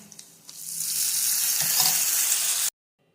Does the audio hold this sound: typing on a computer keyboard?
no